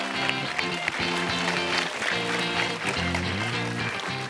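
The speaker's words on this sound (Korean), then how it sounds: "큰 박수 부탁드립니다" Studio audience applause at a televised middle-school science quiz show, steady clapping mixed under a bright, continuous music bed with no break.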